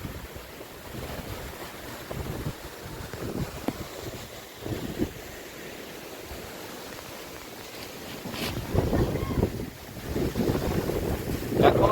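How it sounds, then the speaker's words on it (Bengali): Strong gusty wind from a sudden storm roars steadily outdoors, buffeting the microphone with rushing noise that swells louder toward the end, with no talking. "হঠাৎ ঝড় উঠেছে ঝোড়ো হাওয়া হচ্ছে"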